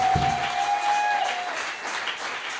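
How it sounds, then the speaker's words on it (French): A church congregation applauding and cheering during a prayer service, with dense, sustained clapping and a brief sustained tone at the start, fading slightly toward the end. "Est-ce qu'on peut l'acclamer très fort,"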